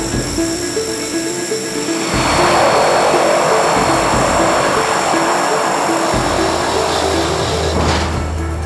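Hercules transport aircraft departing from a rough runway, a loud, close roar of propeller engines that swells and holds steady, with the rumble shifting partway through as the plane moves.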